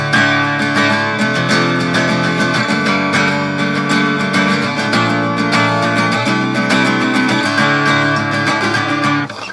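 Guitar riff in DADGAD tuning with open strings ringing into full chords, strummed in a steady busy rhythm with dense, resonant sustain, loud and close throughout with no talking.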